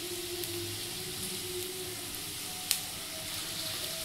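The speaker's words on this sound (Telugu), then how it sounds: "ఆనియన్స్ కలర్ చేంజ్ అయ్యే వరకు పెట్టుకొని" Steady, close sizzling of something frying in hot oil, a continuous crackling hiss with one brief sharp tick partway through.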